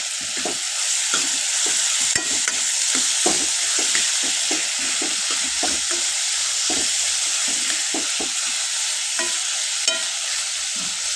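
Tomato pieces fry in oil in a pan while being stirred. A steady, close sizzle carries through, broken by repeated soft scrapes and taps of the spoon in an uneven rhythm.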